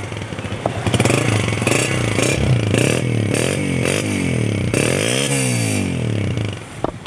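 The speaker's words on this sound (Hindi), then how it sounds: "अच्छे साउंड में जी बाइक होंडा 125 पावर प्लस" A Honda 125 Power Plus motorcycle engine starts and runs steadily close by, its throbbing idle rising into a few revs, loud with no talking.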